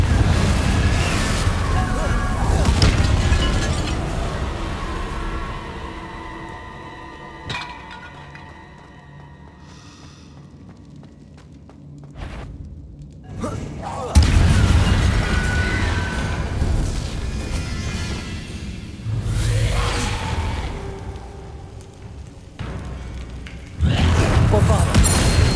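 The Confringo blasting spell going off in Hogwarts Legacy: heavy booming blasts and crashing impacts rise out of busy game ambience, with a few loud detonations near the middle and end, and a voice heard at times.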